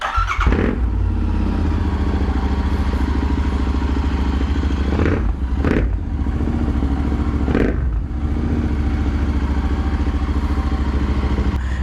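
A motorcycle with an aftermarket exhaust idles loudly and steadily up close, its deep throbbing exhaust rumbling continuously with a few brief blips and clatters.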